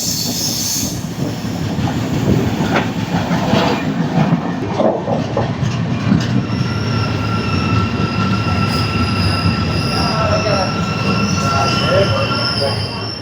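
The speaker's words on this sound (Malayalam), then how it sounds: "നമ്മുടെ ട്രെയിൻ കോട്ടയത്തിലേക്ക് കയറാൻ വേണ്ടി പോവുകയാണ്" A train rolls along the rails with a loud, steady rumble, rhythmic wheel clatter and occasional high squeals, close by and continuous, approaching Kottayam in Kerala.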